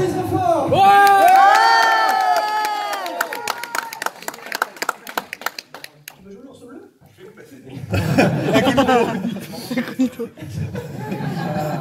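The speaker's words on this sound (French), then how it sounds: "On applaudit très fort!" Crowd at a New Year's Eve concert show cheering and clapping loudly, with shouts and laughter, fading into a quieter stretch before a second burst of cheering and applause swells.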